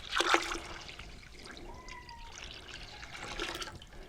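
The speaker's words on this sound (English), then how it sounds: "So we'll go ahead and add this spring water." Spring water trickles and splashes into a pot for blueberry mead, with a brief gurgle at the start and again near the end, fairly close.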